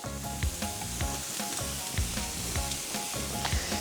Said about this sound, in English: Sticky bacon, just place it on the grill, just like that. Remember, it has to be hot.